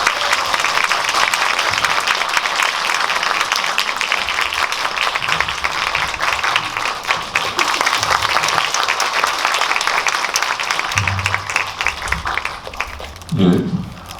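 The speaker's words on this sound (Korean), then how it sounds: "박수 부탁드립니다." Applause from a cinema audience at a post-screening Q&A with a documentary director, dense steady clapping that fills the room and holds evenly before thinning out, with a voice briefly heard near the end.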